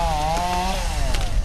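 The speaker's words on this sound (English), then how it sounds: "the chainsaws are out cutting up trees that have fallen over" A chainsaw revs loud and close while cutting up trees brought down by severe storms, its steady engine whine dipping in pitch as it bites into the wood.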